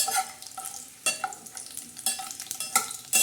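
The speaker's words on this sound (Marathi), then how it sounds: "आता ह्या मांदेला छान असं तेल टाकून तेलामध्ये तळून काढणार आहोत आपण ह्या मांदेल्या" Dried mandeli fish frying in oil in a cooking pot, a close sizzle broken by repeated scraping stirs at an irregular pace, with no voices.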